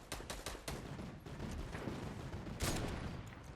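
Rapid bursts of Fortnite gunfire crackle in quick volleys, loud and close, with sharp shots layered over a busy, noisy background.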